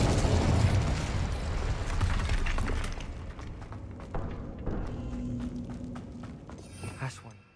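Hogwarts Legacy Incendio and Glacius spells cast in quick succession, a loud fiery burst and rumble up front that trails into softer crackling and icy shimmer, with game ambience and music underneath.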